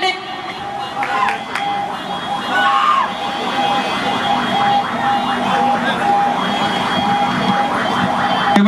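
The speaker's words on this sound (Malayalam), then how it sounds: "ആംബുലൻസ് ഒന്ന് കടത്തി വിടേണ്ടതാണ്," Ambulance siren wailing through a dense crowd at an outdoor stage event in Kuttiady, a repeating rising-falling tone at moderate distance over steady crowd murmur and a public-address hum.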